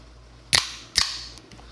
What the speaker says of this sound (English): This is a little fireworks display.